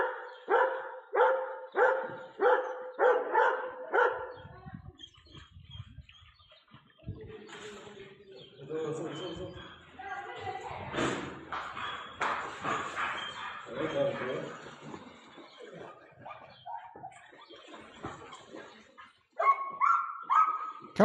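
A dog barking in a rapid series of loud, close barks as its owner pretends to be drowning in water, then quieter yips, whimpers and splashing-like noise mixed with people talking, before sharp barks return at the end.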